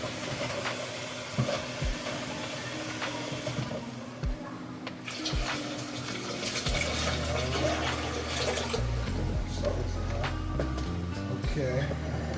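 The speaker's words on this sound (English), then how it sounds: "Let's wash them off one more time." Tap water runs and splashes over cut potatoes being rinsed for fries in a home kitchen, a steady close gush with clatter from handling, while a person talks over it.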